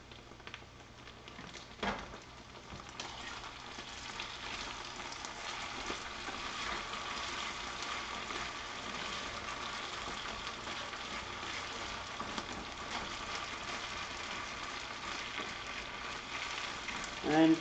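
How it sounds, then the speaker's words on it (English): Eggs for a Spanish tortilla sizzle steadily in a frying pan while being stirred, a continuous close crackling hiss with a brief knock near the start and no talking. "let's give this a little stir here real quick"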